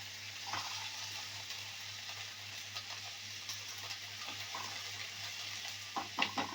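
Whole spices and cardamom fry in a pan with a low, steady sizzle, joined by a few light clinks and stirring scrapes near the end.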